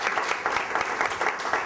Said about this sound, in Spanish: os agradezco el aplauso